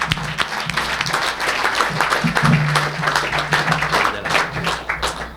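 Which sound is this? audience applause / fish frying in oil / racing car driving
audience applause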